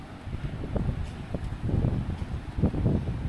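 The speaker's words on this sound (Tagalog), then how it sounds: "Lakas ng hangin. Grabe." Strong wind sweeps across a beach with big waves at low tide, a moderate rumbling gust with buffeting against the microphone.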